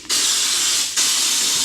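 Raptor protective undercoating sprays from an aerosol can in two steady, loud hissing bursts, the first a little under a second and the second following a brief break, close by with no talk.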